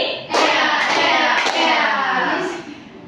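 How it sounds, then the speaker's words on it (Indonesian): Young pupils in a microteaching classroom clap three times together in quick succession, the sharp claps merging with a loud group vocal response from the children. "Tepuk 3 kali"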